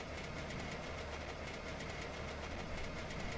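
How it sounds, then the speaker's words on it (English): A rattly car engine in The Long Drive, cruising at about 100 km/h and sounding like a broken diesel, with a dense continuous rumble and clatter at a constant level and no talking. "it's got a rattly engine. It almost sounds like a broken diesel."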